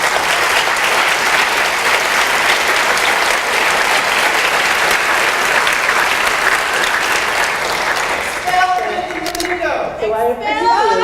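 An audience at a Stanislaus State university campus event applauds loudly and steadily for about eight seconds. The clapping then thins out as a speaker begins talking over the last of it.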